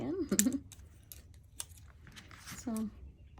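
Scissors snip through paper for a recycled art project, a few short crisp cuts spread out between bursts of a nearby voice talking.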